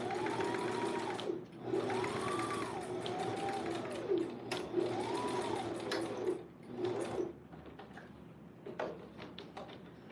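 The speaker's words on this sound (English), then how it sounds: "we're gonna sew a straight stitch across the bottom" A sewing machine runs a straight stitch across the bottom of a wig, its motor whirring in several short rising and falling bursts with brief pauses, then fading into quieter handling noise.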